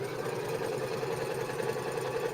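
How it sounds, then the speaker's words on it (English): A restored Sears Kenmore sewing machine hums steadily with a fast, even mechanical whir that runs without a break. The machine sounds fairly quiet and close, and no one talks. "there's one sewing machine back to life"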